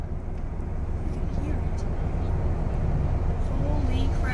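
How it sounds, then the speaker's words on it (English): Continuous broadband roar of a strong tornado near Washington, Illinois, a steady jet-like rumble that holds through the whole stretch without pause. "You can also clearly hear the jet-like roar from the tornado"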